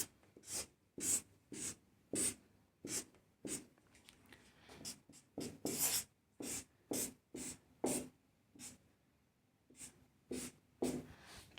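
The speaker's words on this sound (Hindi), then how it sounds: "1-2 सवाल और मैं यहाँ पे लिख देता हूँ" Marker or chalk scratching out chemistry questions on a classroom board, a steady series of short, crisp strokes with brief pauses between them, close and alone with no talk.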